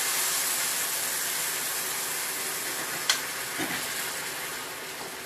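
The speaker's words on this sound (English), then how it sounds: "Just pour that in the pan. You hear that sizzle." Cold liquid poured into a hot pan of pepper steak gives a steady, loud sizzling hiss that fills the whole stretch without a break, with a couple of faint clicks partway through.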